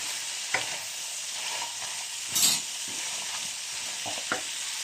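Continuous sizzling of noodles and vegetables in a hot pan with soft scraping and stirring clicks now and then, close by and steady.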